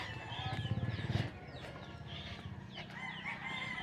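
A cockerel crows repeatedly at a sunrise stroll in Malapascua, Philippines, its calls moderately close among clucks and other birds in a quiet outdoor village setting.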